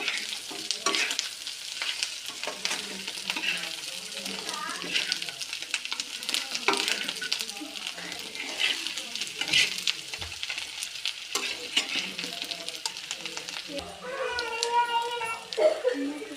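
Chicken frying in a pan with curry leaves, a loud continuous sizzle and crackle with stirring clatter, under occasional talking.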